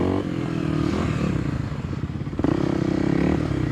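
A Kawasaki KLX 300 dirt bike rides off-road near Floyd, Virginia, its single-cylinder engine loud and close, revving up and dropping off, then climbing again with a fresh burst of throttle.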